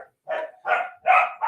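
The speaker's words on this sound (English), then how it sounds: "I apologize if there is a little barking there" Several dogs bark in separate bursts, four loud close yaps spaced across a short stretch with brief quiet gaps between them.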